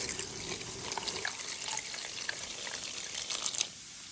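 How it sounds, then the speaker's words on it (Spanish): Water runs steadily from a tap or is poured into a container, two small cups' worth, a continuous close splashing gush with small clinks, no voices. "Le voy a agregar 2 tacitas de agua"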